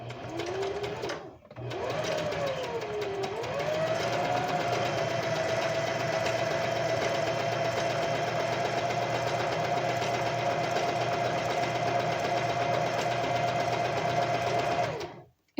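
A sewing machine stitches pajama fabric with a brief pause early on, then a steady, continuous mechanical hum and rapid needle chatter at close range until it stops at the end.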